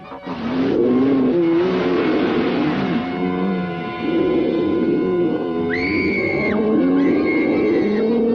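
A car starts up and drives off, its engine note rising and shifting with revs, ending in a brief high squealing tone, loud and close with no talk.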